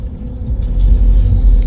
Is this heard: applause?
no